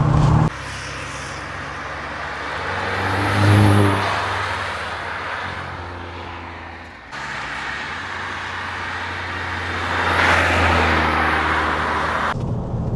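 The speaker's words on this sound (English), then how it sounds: "This car drives faultless." An Audi TT driving on the road, with a steady engine and road rumble swelling into heavier surges near the middle and again toward the end. No talk is heard.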